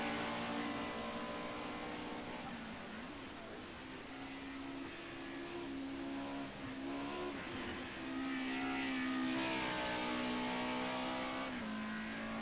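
A Mercedes 190E Group A touring race car at Oschersleben holds a steady, droning engine note with gear shifts and small pitch dips, heard from onboard, continuous and fairly faint, with no talk.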